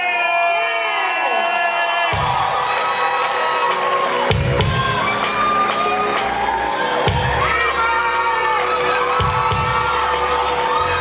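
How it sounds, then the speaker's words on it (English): A live show audience cheers, whoops and shouts loudly and continuously, a dense crowd roar that fills the whole stretch. "Start clapping right now"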